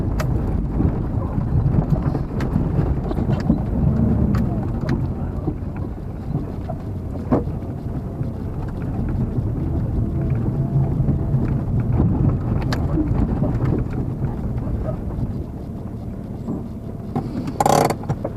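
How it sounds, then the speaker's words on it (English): Strong wind roars and buffets continuously in low rumbling gusts among rocks on an Idaho overland route, loud and close, with occasional sharp rattles and knocks. "Pretty windy up here"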